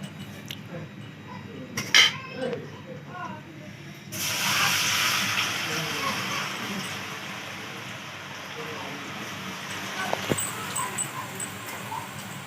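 A second batch of Navratri snacks drops into hot frying oil and is stirred, a steady bubbling hiss rising after a few clinks and holding near and moderately loud, with someone talking over it.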